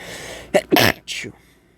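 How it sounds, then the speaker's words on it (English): A person sneezes sharply, a quick burst followed by a softer breathy sound, close up in a quiet room. "Sorry, I got to sneeze."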